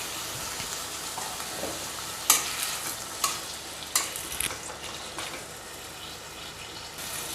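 Four tomatoes sizzle in heated oil in a pan for a mint chutney, with a steady frying hiss broken by a few sharp stirring scrapes and clicks partway through.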